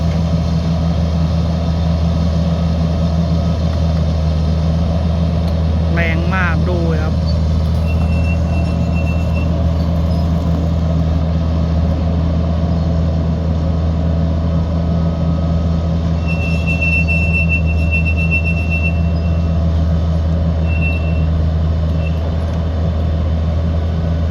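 An excavator and a tractor pushing soil at a construction site, a loud, constant low engine drone with a brief squeal and a faint high whine, heard close and without any talk.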